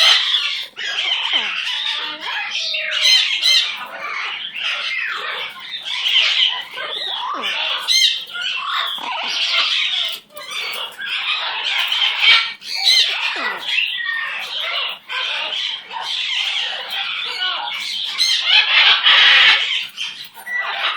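A pet Amazon parrot squawks and chatters loudly and almost nonstop at close range, with dense bursts of shrill calls throughout.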